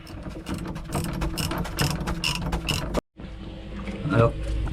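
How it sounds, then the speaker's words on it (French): A ratchet works loose the cylinder block bolts on an engine, giving rapid, close clicking in quick bursts, a brief pause, then more ratcheting, with a voice talking alongside. "Voilà, je dévisse les cylindres blocs."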